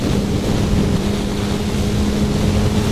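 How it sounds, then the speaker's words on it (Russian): A Kawasaki sport bike engine drones steadily and loudly throughout, heavily masked by wind rush across the microphone while riding, with no clear rise and fall of revs. "Резко дал газ, ускорился, отпустил."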